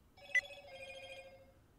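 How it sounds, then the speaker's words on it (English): A phone rings with a short electronic ringtone, a steady bright tone held for over a second, close and moderately loud, with no talking. "my phone's going off"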